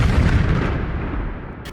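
A loud explosion sound effect in a comedy sketch booms heavily at the start and then rumbles and fades over about two seconds, with no voices.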